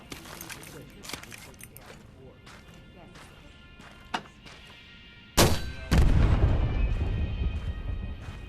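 An M1 Garand rifle is fired in the Medal of Honor video game: scattered sharp cracks, then two loud, heavy blasts followed by a sustained rumble, with a voice present in the background.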